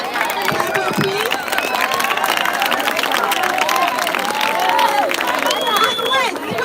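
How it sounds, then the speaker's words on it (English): A crowd at a school's 120th anniversary celebration claps and cheers for an alumna, loud busy applause mixed with shouts and chatter, while a voice talks over it. "Give a round of applause for Leonor Cabo, please"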